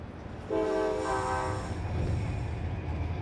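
A mail train rushes along with a loud, steady rumble, and a horn blares for about a second near the start. The sound is used as an effect in an audiobook.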